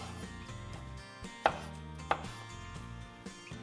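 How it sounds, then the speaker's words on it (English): Peeled potatoes being cut into small cubes on a board, a few sharp knife strikes landing against the cutting surface with pauses between them, heard over steady background music. "slice them into rounds, and then cut them into small cubes"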